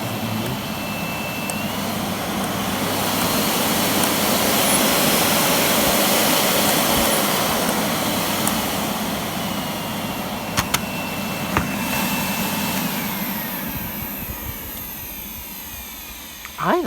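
A Miele S6220 Cat & Dog vacuum cleaner with a warped casing runs with a steady, loud whooshing roar that holds evenly throughout, with a few small clicks near the end.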